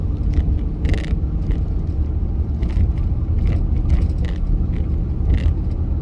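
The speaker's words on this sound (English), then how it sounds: "There's a cement truck, let me pass." A cement truck passes close by on the road, its loud, continuous low engine rumble carrying scattered rattles and scraping clatter throughout.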